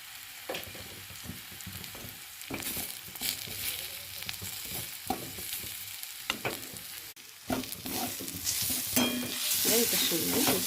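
Sesame seeds frying in a little oil in a covered pan, with close, steady sizzling, repeated scraping stirs and occasional clatters that grow into a brighter, louder hiss toward the end.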